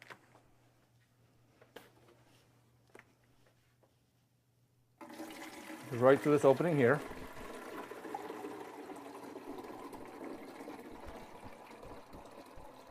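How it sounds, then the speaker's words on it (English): Water running into the reservoir of a Gaggia 14101 espresso maker, a faint steady trickle and gurgle after a quiet stretch with a brief spoken remark, with a short louder burble midway. "you'll want to put water in the reservoir."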